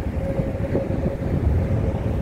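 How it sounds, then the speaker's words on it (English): A Chicago elevated train rumbles past above a downtown street in January, a steady low, heavy rolling drone with a faint tonal hum, no talk. "There's a train coming. Beautiful, beautiful elevated train, Chicago train."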